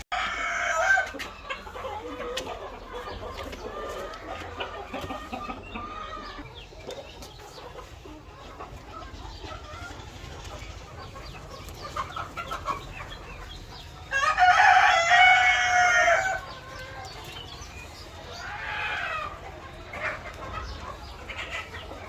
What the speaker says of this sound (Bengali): মুরগিগুলো খাচ্ছে